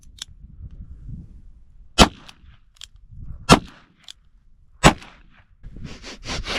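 Three sharp gunshots from an old .22 revolver firing 50- to 60-year-old ammunition crack out at spaced intervals outdoors, each a loud snappy report, with faint rustling and handling noise in between.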